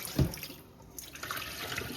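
Tap water runs over peas being washed for Jamaican stew peas, a soft splashing stream with a brief louder splash at the start, faint and close.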